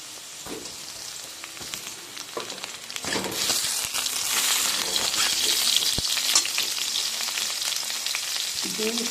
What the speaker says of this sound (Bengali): উচ্ছেটা ভাজার এরকম পর্যায়ে আমি বেগুনগুলো দিয়ে দেবো